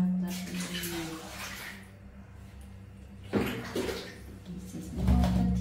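Water is poured and splashed while a baby monkey's drinking water is swapped for fresh water, with a steady running wash, a sharper splash midway and a louder slosh near the end, under faint background voices.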